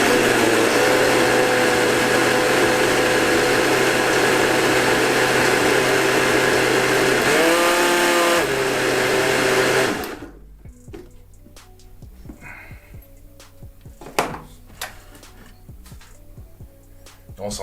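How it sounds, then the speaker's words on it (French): A kitchen blender whirs loudly and steadily for about ten seconds, mixing a hot spicy boilie bait mix for carp fishing, its pitch dipping briefly before it cuts off, leaving quiet clatter and handling noises. "On va passer un coup de blender pour bien tout mélanger"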